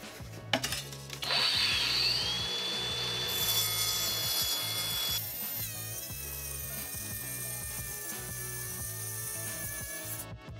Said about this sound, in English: Let's make a cut on this 3/4 inch quartz.